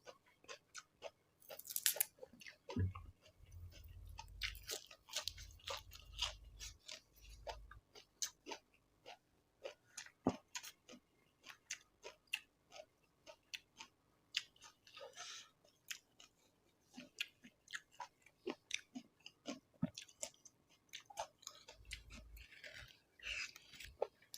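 Crunchy fresh blanched squid, pounded into a spicy fermented-fish-sauce salad, is chewed close up with repeated wet crunches and bites spread through the stretch, with no talk.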